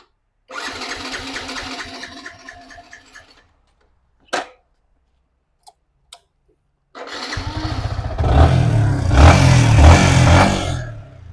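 A motorcycle engine sputters briefly and cuts out, a few clicks follow in silence, then it starts up again and revs loudly nearby.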